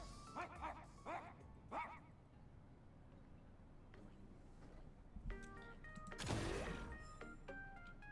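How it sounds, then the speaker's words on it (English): A dog gives several sharp barks in quick succession, then later a louder, harsher bark or yelp, heard over a noisy background with a few other scattered sounds. "Righteous barking of a dog."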